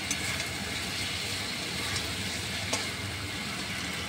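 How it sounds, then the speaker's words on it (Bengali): Spice masala being sautéed in a pan, a steady moderate sizzle with light stirring scrapes and an occasional soft tap, near and without voices. "ভালো করে কষিয়ে নিচ্ছি।"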